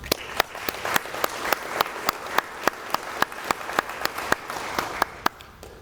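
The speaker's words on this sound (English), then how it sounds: "please applaud your family members that are here with you guys" An audience at a college signing day applauds family members, sharp claps in a fairly regular pattern from a modest crowd, moderately close, tapering off near the end.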